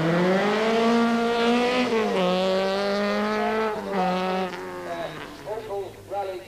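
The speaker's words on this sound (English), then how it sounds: "Vauxhall Rally Team car" A 1983 Vauxhall Rally Team car on the Circuit of Ireland Rally howls past, its engine note holding high, then dropping and rising through gear changes before fading into short revving bursts.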